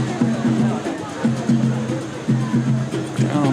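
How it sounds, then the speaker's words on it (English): Bongo drums playing at a beach in Palmanova, Mallorca, on an evening walk: quick repeated pairs of resonant hand-drum tones in a steady rhythm, moderately close, over a background of outdoor crowd murmur. "Some bongo music from somewhere."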